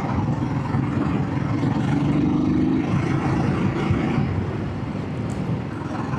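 A 2025 Royal Enfield Guerrilla 450, a 185 kg motorcycle, being ridden: a steady, loud low engine drone heavily mixed with wind buffeting on the microphone, continuous throughout with no voices.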